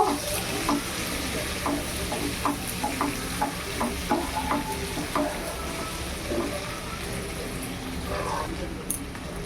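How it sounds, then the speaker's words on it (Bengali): Potatoes fry with turmeric in a pan, a continuous soft sizzle punctuated by regular scraping stirs, with someone talking over it. "হলুদ গুঁড়ো দেব, খুবই অল্প, এইটুকুই দিয়ে আলুকে ভালো করে ভাজবো।"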